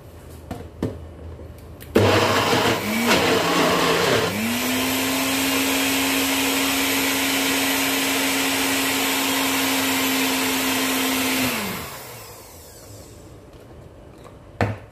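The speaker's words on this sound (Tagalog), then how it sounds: "gagamitin natin ng konti dito sa ating i-blend na hummus" A blender pureeing chickpea hummus: after a rattling start the motor settles into a steady, loud whir for about eight seconds, then spins down and stops.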